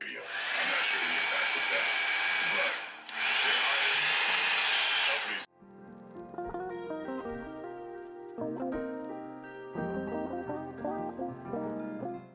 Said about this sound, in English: the blow dryer. So they had 2 settings, obviously, the high and the low, and this is how it sounds